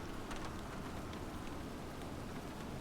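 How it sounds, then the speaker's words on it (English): Steady rain falls at Manila airport in a flight simulator game, a dense, even hiss of drops pattering on surfaces throughout, with no voices. "Rainy day today in Manila."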